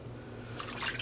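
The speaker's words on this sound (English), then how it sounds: "Notice that I'm not running the water directly on top of the yarn." Tap water runs and splashes faintly into a dye pot holding yarn, a soft, quiet trickle that grows slightly louder and more bubbly toward the end.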